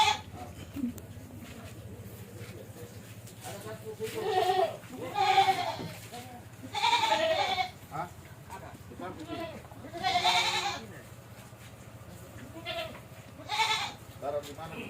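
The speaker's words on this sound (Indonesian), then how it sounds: "Domba atau kambing." Sheep or goats bleat several times, fairly close, at Mangasa, with people talking over a steady low background hum.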